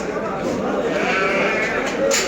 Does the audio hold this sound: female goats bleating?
yes